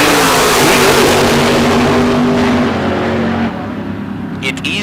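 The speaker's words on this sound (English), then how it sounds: "Denny Valvo, 72 Chevelle out of Prescott, dialed in at 6:05" A 1972 Chevelle drag car from Prescott roars loudly at the strip, its engine note sustained and strong before fading, with a public-address announcer talking over it.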